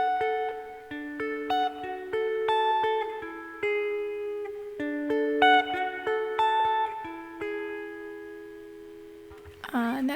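Acoustic guitar picks out a slow hymn melody, clear plucked notes and chords ringing one after another, ending with a brief strum.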